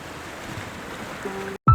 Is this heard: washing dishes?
no